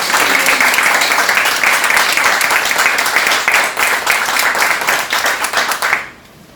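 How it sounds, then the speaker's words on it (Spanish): An audience at a book presentation gives warm, sustained applause, a dense wash of many hands clapping at once for about six seconds before it stops abruptly. "Por favor, démosle un fuerte aplauso a ambos."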